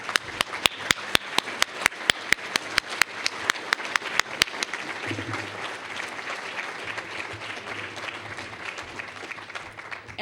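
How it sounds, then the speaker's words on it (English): Applause at a MUFON UFO symposium for the Colorado MUFON staff opens with a few sharp, evenly spaced claps standing out, then settles into a softer, dense spread of crowd clapping that carries to the end. "I really want another round of applause for the Colorado MUFON staff"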